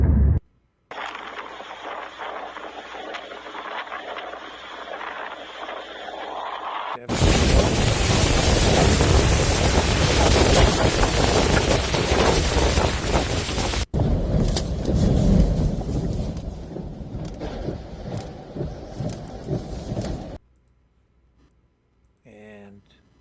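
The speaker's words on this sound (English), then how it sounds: "Incredible winds, massive amounts of water across this highway." A violent storm on a highway, with strong winds and heavy rain sweeping masses of water across the road: a loud, continuous roar of wind and downpour that swells sharply partway through, then cuts off abruptly near the end.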